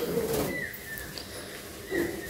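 A female Andhra Kalanka pigeon coos softly in low murmurs at the start and again near the end, over quiet background noise.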